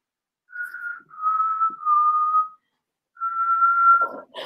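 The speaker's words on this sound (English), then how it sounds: "I can whistle." A person whistles a few sustained, steady tones with short gaps between them, clear and close, with no other sound around.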